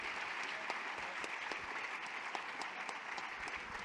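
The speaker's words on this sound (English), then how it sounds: "An extra applause, please." Steady applause from a conference audience at a poster awards and farewell session, dense clapping that holds at an even level throughout with no voices standing out.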